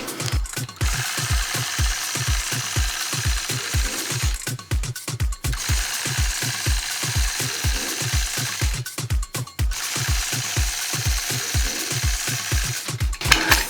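A sewing machine quilts with a 4-N-1 ruler, its needle thumping in fast, even bursts of rapid clatter, close and loud, broken by short pauses where the machine stops.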